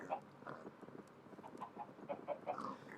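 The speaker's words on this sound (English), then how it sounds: "Gotta feed the chickens." Chickens clucking and murmuring together at close range, a busy overlapping chatter of short calls, soft and low in level, with a voice present.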